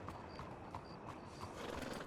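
Hooves clop in an even, quick rhythm from a horse in the WantedRP video game, close and alone, with faint game ambience underneath.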